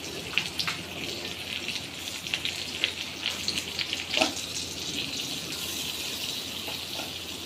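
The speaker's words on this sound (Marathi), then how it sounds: "आता पॅनमध्ये आपण एक चमचा बटर टाकूया" A spoonful of butter melting in a pan, giving a steady soft crackling sizzle with scattered small pops, moderately quiet and without talk.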